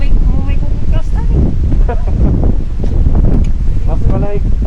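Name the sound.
strong cold wind during motorcycle ride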